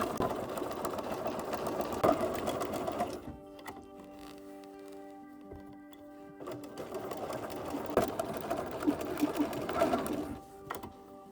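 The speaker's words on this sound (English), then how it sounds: "use a zigzag stitch and zigzag all the way around, but break at the channel points so we don't close the channel" A domestic sewing machine runs a zigzag stitch around fabric, stopping at channel points: a steady close whirring burst, a quiet pause of a few seconds, then a second run of stitching.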